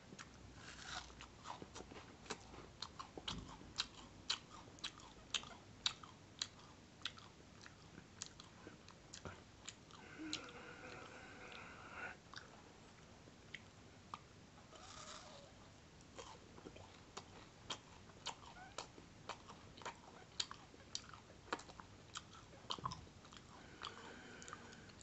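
Crunchy Turkish kadayif pastry being chewed up close, with repeated crisp bites and crackling crunches across the clip, no talking.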